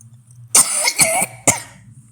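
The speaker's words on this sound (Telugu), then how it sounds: "సారీ అండి, దగ్గు తగ్గట్లేదు." Three sharp, close coughs in quick succession, loud and dry, with faint background hum between them.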